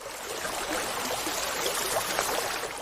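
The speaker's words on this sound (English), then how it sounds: "the dry riverbeds gurgled with water" Water rushing and gurgling through riverbeds after heavy rain, a steady, dense wash of flowing water with bubbling trickles, continuous and fairly close, with no voices.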